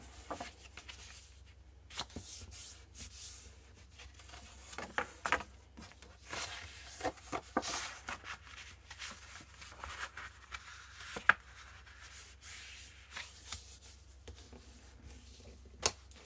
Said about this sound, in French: Donc nous allons faire les plis